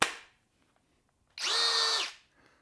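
Skil Flip drill/driver on a 20 volt battery spinning up to top speed, a single steady high whine for about half a second, close and isolated, preceded by a short fading tail.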